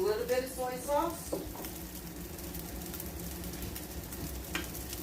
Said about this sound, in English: I add just a little bit of soy sauce.